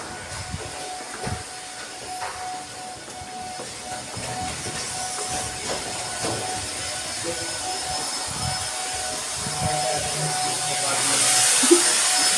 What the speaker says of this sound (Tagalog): Maingay yung elevator.